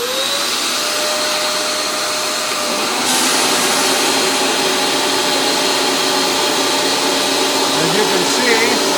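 A Dyson Simplicity vacuum motor runs loud and close with a steady high whine and airy rush, its pitch rising slightly at the start, then stepping up to a harsher, louder roar about a third of the way through.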